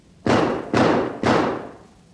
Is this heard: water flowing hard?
no